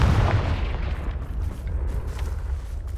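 A Confringo blasting spell going off in the Hogwarts Legacy video game, one deep booming burst at the start that fades into a low rumbling tail.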